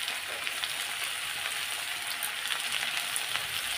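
Potatoes sizzle steadily in a pan with turmeric and salt, a dense, even crackle of frying that holds at one level throughout with no voices.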